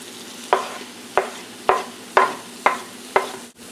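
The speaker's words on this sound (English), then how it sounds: "stir in your 2 finely chopped Roma tomatoes" Chopped Roma tomatoes are stirred into a samosa filling in a pan off the heat, six evenly spaced scraping strokes of a spoon over a faint background sizzle.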